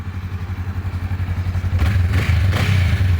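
Honda Rebel motorcycle with a stock exhaust idling steadily, a deep low rumble that swells with two short throttle blips near the end, close up with no talk.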